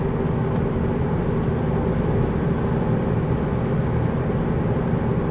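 A Fiat Egea with a 1.4 Fire engine cruising at 90 km/h in sixth gear up a gentle incline: a steady, continuous low engine and road drone, loud and unbroken throughout, with no talk.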